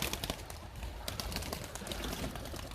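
Racing pigeons bursting out of a loft as the doors open, a busy flurry of wing flaps and cooing close by, dense and continuous for a few seconds.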